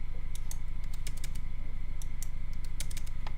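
Quick, irregular keystrokes on a computer keyboard tap along in bursts over a steady low hum in a quiet room, close to the microphone and without any voices.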